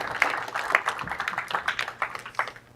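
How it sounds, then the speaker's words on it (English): A tech conference audience claps in a quick, uneven patter of many hands, moderately loud and close, with a faint murmur of voices underneath. "you deserve a huge round of applause"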